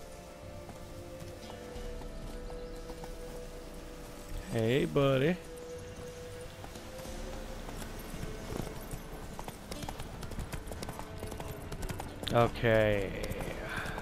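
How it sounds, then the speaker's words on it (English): A horse in The Witcher 3: Wild Hunt trots up with steady clip-clopping hooves, and someone speaks briefly twice over the footfalls. "And I guess I can call my horse."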